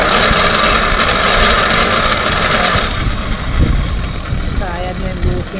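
Worn, scraping bushing in an old Mariano electric motor, which runs with a steady mid-pitched hum and a rough grinding undertone throughout, with people talking over it near the end.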